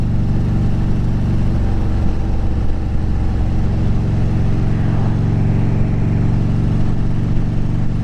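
2010 Harley-Davidson Street Glide Ultra motorcycle engine running close by, a loud, steady low rumble with small throttle surges and slight swells in the middle, no talking.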